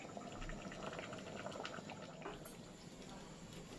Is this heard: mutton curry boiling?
yes